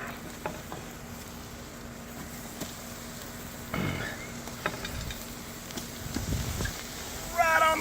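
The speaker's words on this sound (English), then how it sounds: "Oh, look at that sizzle" Food frying in vegetable oil over hot coals, a faint steady sizzle with occasional clinks and crackles, and a person talking over it.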